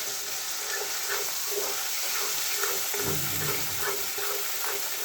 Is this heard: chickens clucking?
no